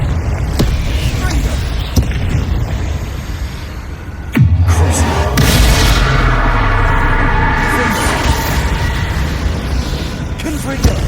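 Confringo blasting spell explosions in Hogwarts Legacy, a few sharp cracks early on, then a big booming blast around the middle that rumbles and rings out amid ongoing combat clatter.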